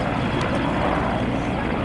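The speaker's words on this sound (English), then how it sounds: "there's just an army helicopter here." An army helicopter thrums loud and steady overhead near Stonehenge, a continuous dense rotor and engine roar filling the whole moment.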